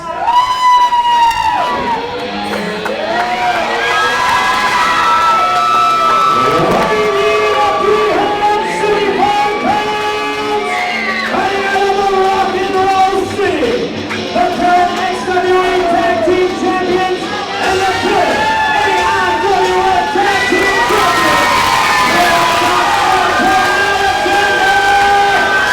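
A wrestling arena crowd roars and chants loudly and without pause through the whole stretch, massed voices rising and falling in pitch, with whoops and shouts near the front and no single speaker standing out.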